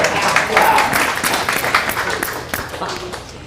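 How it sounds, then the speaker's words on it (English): An audience at a 1 Million Cups Clermont community gathering breaks into sustained clapping that carries steadily across the whole moment and tapers slightly toward the end. "can clap if you want"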